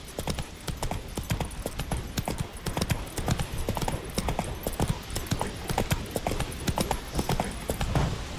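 Roach, Geralt's horse in The Witcher 3, gallops with a steady, fast drumming of hooves on firm ground, loud and close, running on without a break.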